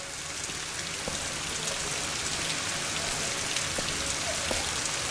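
Steady rain in the video game Rise of the Tomb Raider, set in London, patters and hisses across the whole stretch, a dense wash of droplets with a few faint tonal blips in the background.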